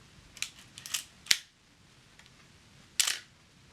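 Olympus OM10 film camera shutter and mechanism firing: a few quick close mechanical clicks and clacks, one sharp snap, then a pause before a final crisp shutter release, quiet room behind.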